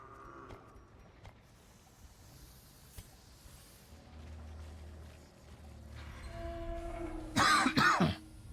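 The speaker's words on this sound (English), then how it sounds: "Sorry about coughing into the mic." A person coughs close into a microphone near the end, a short loud burst after quiet background noise from a dungeon-crawler game session.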